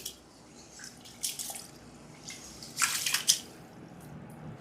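Rice and husked split moong dal are washed by hand in water, with several short splashing, sloshing bursts and faint drips over a quiet background.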